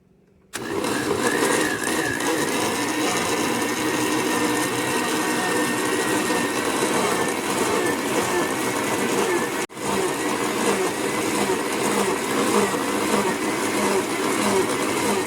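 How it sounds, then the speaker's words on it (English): A blender whirs loudly and steadily after a sudden start, briefly cutting out near the end before resuming its continuous motor roar. "now that it's done blending"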